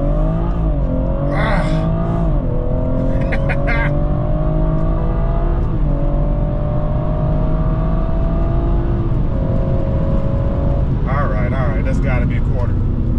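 A BMW with a Stage 1 tuned B58 engine launches and accelerates hard, its loud engine note climbing steadily through the gears with brief dips at shifts, while people talk and shout in the car.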